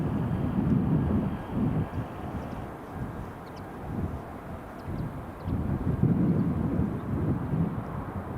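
A steady, rumbling jet roar from an EasyJet airliner at Edinburgh Airport, broad and wind-blown, swelling and easing over several seconds at moderate distance with no talk.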